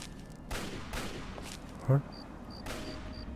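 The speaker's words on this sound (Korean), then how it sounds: "내가 아닌 뭔가한테 총을 쏘고 있지?" Gunfire in the video game Fallout 3: a few scattered, distant-sounding shots, one sharper crack standing out, over a low game ambience.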